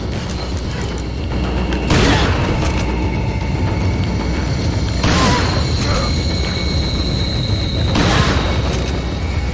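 A shotgun fires in Resident Evil 4 with three heavy booming blasts spaced a few seconds apart, over constant game noise and background rumble.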